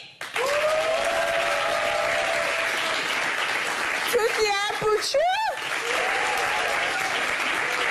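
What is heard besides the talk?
audience applause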